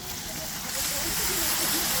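Tomatoes hitting hot oil in a pan of sautéed onions for a Kongu-style parupu dum biryani, giving a steady loud sizzle and hiss that swells after a moment.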